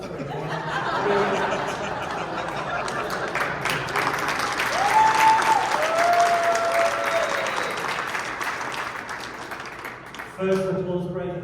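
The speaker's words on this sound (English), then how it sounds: "First applause break of the panel." A convention crowd at a Hellraiser panel, Days of the Dead Las Vegas 2023, breaks into sustained, dense applause mixed with laughter and chatter. The applause lasts about ten seconds before fading into voices.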